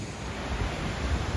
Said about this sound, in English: You gotta run it right in the ocean.